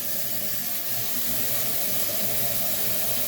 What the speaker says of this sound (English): Begin putting in water to your sink.